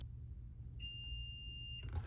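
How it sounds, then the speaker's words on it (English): A kitchen minute timer gives one long, thin, high electronic beep lasting about a second over a low background rumble, then a short clatter follows. "Minute alarm."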